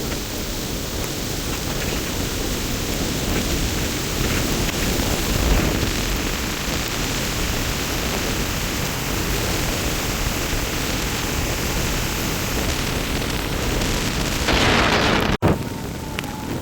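Cyclone wind and heavy rain roar at Pungudutivu as the swollen sea pushes waves into the village, a dense continuous rushing noise with a sudden jolt near the end.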